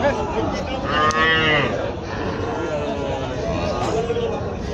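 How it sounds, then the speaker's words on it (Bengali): A young red local heifer calf lowing loudly at a village cattle market, with several drawn-out moos close by over a constant murmur of crowd chatter. "এই যে এখানে আরও একটা দেশি সাইজের দেশি বাছুর, লাল কালারের বাছুর, বকনা বাছুর দেখানো যাচ্ছে"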